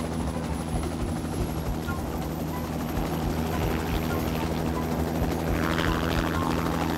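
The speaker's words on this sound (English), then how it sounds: "There's a helicopter passing through the river right now." A helicopter flying over a river, its steady rotor thump and engine drone dominating, loud and sustained, growing slightly stronger toward the end.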